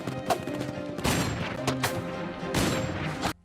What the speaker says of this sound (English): The gunshots have Jane and her students scared.